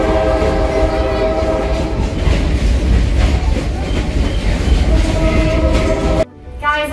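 A Stone Mountain tourist train rumbling and clattering as it rolls to a stop, loud and close with steady wheel noise and metallic squeal, then a sudden drop to quieter sound near the end.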